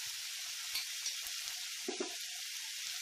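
Vegetables sautéing in a pan for veg samosa filling give a soft, steady sizzle with faint scattered crackles and a few light stirring clinks, heard alone at low level.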